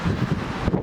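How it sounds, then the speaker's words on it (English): Strong gusty wind buffets the microphone outdoors during a wind advisory, a close, rumbling low roar filling the short moment without speech. "It's like so windy."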